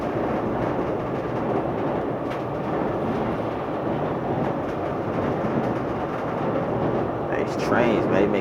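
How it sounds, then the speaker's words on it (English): Passing trains roar with a steady, loud rumble and rattling wagons throughout, a sustained nearby rail din with a faint squeal creeping in near the end. "trains, man. They making mad noise"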